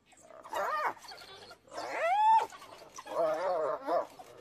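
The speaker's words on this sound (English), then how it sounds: "a lone hyena is being attacked by a pack of wild dogs" A lone hyena is attacked by a pack of African wild dogs, with three strained, gargling yelps and whines in separate bursts, close and fairly loud against a quiet background.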